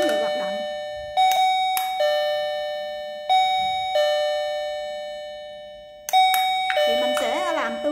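An AT915M waterproof, battery-free wireless doorbell chimes each time its push button is pressed, several clear ringing tones that ring out and slowly decay, close by, with someone talking between and over the later chimes.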